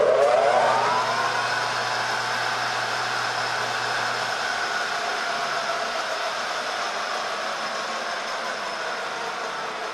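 A 10-inch lathe with a six-jaw chuck spins at speed, giving a steady loud whir with a sustained tonal hum and whine that starts strongest and holds evenly, with no talking.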